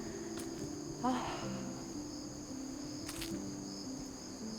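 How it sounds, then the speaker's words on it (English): Crickets chirp in a steady, faint outdoor chorus, a continuous high trill with a few birds calling now and then in a quiet, peaceful spot in Seoul. "You can only really hear like the crickets and some birds, and it's absolutely peaceful."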